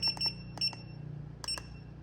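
A BM560 battery tester checking a CCA-type car battery gives short, high beeps in three quick clusters of two or three chirps each, close by and clear over a faint background hum.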